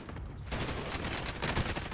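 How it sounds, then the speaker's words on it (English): Rapid gunfire from a BP-50 in a video game, a dense burst of shots starting half a second in and rattling continuously to the end, loud and close with no talk. "I like this BP-50, the like little bolt cut gun."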